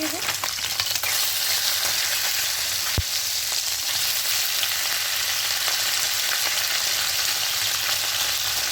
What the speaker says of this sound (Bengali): এবার এখানে মাছটা দেবো সবটা দেবো না অল্প অল্প করে মাছটা দিয়ে ভাজবো